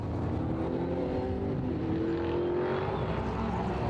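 Race cars on the final lap of a season-opening race at Ring Djursland, engines droning steadily at a distance with a rising whine as cars pass, continuous and unbroken under track ambience.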